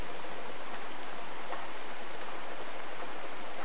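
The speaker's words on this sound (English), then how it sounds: "I hear rain." Steady, dense rain pours in the Boogeyman video game, an even hiss of falling drops with faint scattered patters and no pauses throughout.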